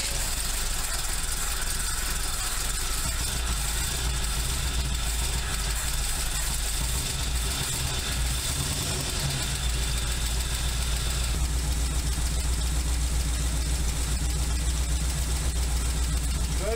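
A Buick Wildcat engine idles steadily just after starting, with a light lifter tick over a continuous low rumble that runs the whole time.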